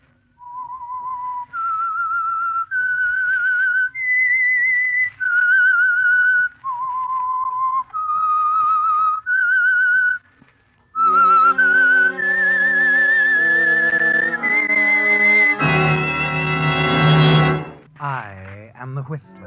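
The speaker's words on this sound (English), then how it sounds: "That whistle is your signal for the Signal Oil program" The whistled theme of the radio drama The Whistler, a lone clear melody of long sustained notes in a slow rising and falling phrase, followed by a sponsor announcement and an orchestral swell.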